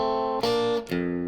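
A blues chord strummed on guitar with a low bass note dropped underneath rings out sustained and close, re-struck twice in quick succession so the tone swells and fades, played alone without talk.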